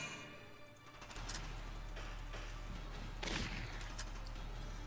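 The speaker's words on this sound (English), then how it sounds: "Could you stop shooting my tank, please?" Rapid gunfire peppering the player's tank in the strategy game Valkyria Chronicles, a dense crackle of shots under a constant low engine drone, rising to a louder burst toward the end.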